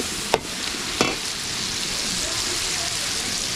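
Burong isda, fermented fish, frying with garlic and ginger, making a constant loud sizzle with a couple of sharp clinks early on.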